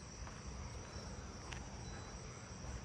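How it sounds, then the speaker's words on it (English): A southeastern field cricket chirps steadily on a quiet neighbourhood night, a faint continuous high trill with occasional louder pulses against soft background hiss. "I hear a southeastern field cricket"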